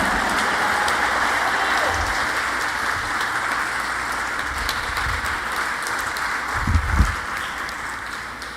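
Church congregation applauding during a sermon, a dense continuous clapping that runs steadily and loudly throughout, with a few heavier thumps near the end.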